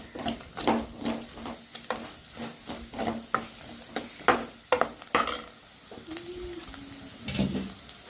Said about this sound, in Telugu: అలానే కొంచెం పసుపు వేసుకొని మొత్తం బాగా కలుపుకోవాలి